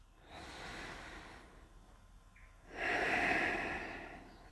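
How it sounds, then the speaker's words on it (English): Deep yoga breathing, one slow audible inhale followed by a longer, louder exhale, close and soft, with no talking. "full breath in and a full breath out"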